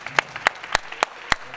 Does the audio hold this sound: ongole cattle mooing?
no